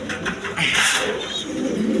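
Fieldback pigeons, a pair kept on a farm, coo softly and close by in a short, steady burst of low throaty calls.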